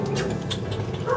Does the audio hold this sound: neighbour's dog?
yes